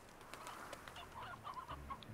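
Chickens in a large chicken area of the video game Slime Rancher cluck in short, scattered bursts, moderately close, with a faint ambient game backdrop and no talking.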